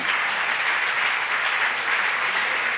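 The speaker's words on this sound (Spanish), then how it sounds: "Sí, denle un aplauso al Señor" A church congregation applauds, giving praise to the Lord, dense steady clapping from many hands at close range, continuous and even in loudness, with no voices over it.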